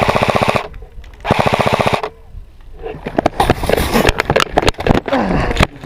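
An airsoft gun fires in rapid full-auto bursts during a big outdoor game: two loud, close, evenly ticking strings of shots, followed by scattered pops, rustling and distant shots as players talk.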